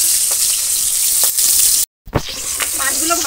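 Magur catfish frying in hot oil in a kadai, a loud continuous sizzle and spatter that cuts out for a moment, then resumes with sharper crackling pops.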